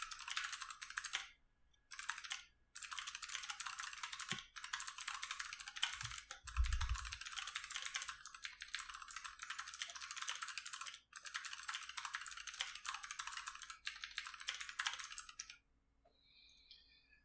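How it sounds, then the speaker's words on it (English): Fast, steady typing on a computer keyboard, close and continuous with a few short pauses and a low thump midway, ending in quiet. "I'm going to type it first."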